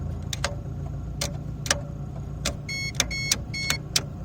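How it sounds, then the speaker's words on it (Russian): A VAZ car's turn signal relay clicks in a steady repeating rhythm, sharp ticks spaced about every half second, close and clear over a low idle hum, with no talking. "Поворотники работают."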